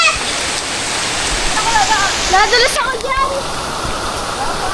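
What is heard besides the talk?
heavy rain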